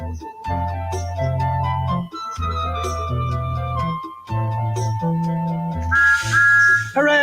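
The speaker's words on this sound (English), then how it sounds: "Remember to pull my whistle to pick up the mailbags as we pass them." Thomas the Tank Engine blows his train whistle in a children's video game: tuned tones sound over bouncy background music, then a brighter whistle blast near the end, loud and close.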